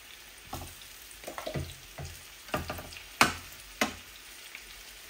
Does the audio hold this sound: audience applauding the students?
no